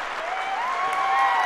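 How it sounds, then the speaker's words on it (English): A podcast crowd gives a round of applause for Marco at a comic awards show, a steady wash of clapping that swells slightly toward the end and runs alone for the whole moment. "Can we get another round of applause for Marco?"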